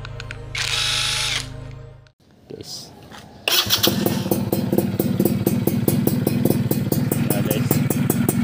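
A rebuilt Yamaha F1ZR two-stroke motorcycle engine starts after about three seconds of quieter handling and whine, then runs at a close, loud, rapid and even idle rattle to the end.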